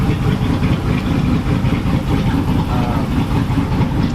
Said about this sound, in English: I'll make a couple pulls here on the dyno.